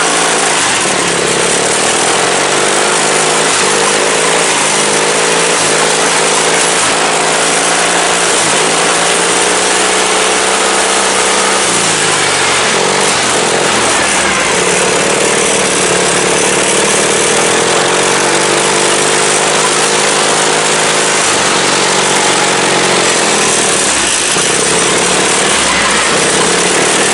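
A race car known as The General, freshly finished and being readied to race, spins donuts with its engine roaring loud and close for the whole stretch, the pitch dipping and climbing again in several revving surges, with no voices.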